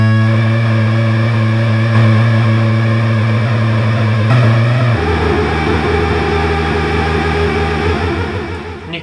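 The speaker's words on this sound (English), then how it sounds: "Then we'll bring it over to the noise source" Minimoog synthesizer with its oscillators being modulated, a sustained buzzy droning tone that shifts partway through as a noise source is mixed into the oscillator sound, loud and steady, fading slightly at the end.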